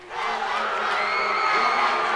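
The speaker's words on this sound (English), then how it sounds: "getting a large applause" Crowd at a 1996 Division 3 state final high school hockey game between Lynnfield and Shrewsbury roars with sustained cheering and applause, a loud, dense wash of voices that swells and holds steady throughout.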